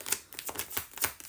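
Oracle cards are laid down and shuffled on a table, a quick series of soft, close papery slaps and flicks in a loose rhythm.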